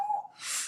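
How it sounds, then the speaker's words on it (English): A pet dog whines indoors: a short, thin, high-pitched whimper followed by a soft breathy exhale, faint and brief. "well that's just my dog whining, I don't know why."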